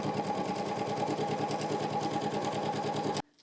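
A sewing machine stitches a fabric panel in a quick, even run of close mechanical pulses lasting about three seconds, then stops abruptly.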